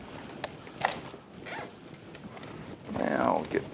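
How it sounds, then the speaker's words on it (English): A zip tie is ratcheted tight around the wiring harness of a Honda Grom during a Yoshimura fender eliminator install, giving a few short zipping rasps close by and a longer pull at the end, with a voice talking faintly underneath. "let's pull it out just a little bit and get one zip tie around it under the existing harness"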